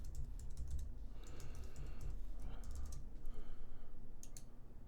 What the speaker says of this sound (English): So I'm going to type in my password.